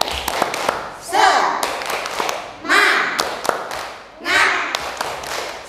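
Children in an Indonesian Ramadan religious study class clap sharply in a quick rhythmic pattern, broken by brief bursts of group voices chanting together between the claps.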